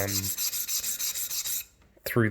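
Opal being ground against a 600 grit abrasive gives a steady high rasping hiss that pulses slightly in rhythm for over a second and a half, then stops; a short voice follows.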